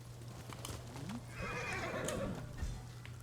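A horse in the video game Ghost of Tsushima whinnies in a rising then falling neigh, accompanied by a few hoof clops over a steady low electronic hum.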